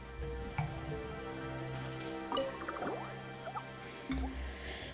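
Rain drips and splashes into a pot of soup in the video game Genshin Impact, with scattered wet plops and squishy droplets over a steady ambient bed, close and moderately loud, with no talking.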